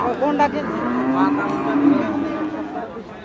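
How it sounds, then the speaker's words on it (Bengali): Cattle at a muddy village livestock market low, drawn-out moos, one after another and fairly close, with faint crowd chatter in the background. "প্রচুর গরু এইদিকে"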